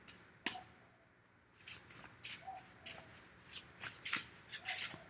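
Oracle cards are shuffled by hand, a single snap followed by a run of close, soft riffling bursts in a steady rhythm, with no talking.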